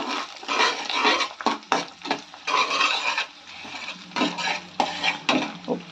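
Oil in a pan with an egg cracked in for fried rice, heard as irregular bursts of sizzling and spatula scraping against the pan, loud and close with short pauses between strokes.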